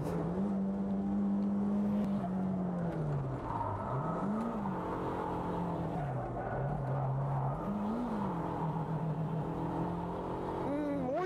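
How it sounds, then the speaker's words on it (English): A van's engine labours and revs through a drift on a mountain pass, its pitch rising and falling in repeated swells over a continuous loud drone, with tyre noise beneath. "It's a kind of drifting, right? Even though it's a van."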